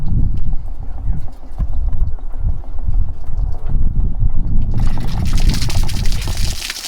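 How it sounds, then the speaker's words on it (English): Cold water spilling out of the drain of a Winnebago Micro Minnie 2100BH RV during winterizing: a steady, loud rushing and splashing flow that continues throughout and grows brighter and hissier toward the end. "So this will be cold water that's in here spilling out."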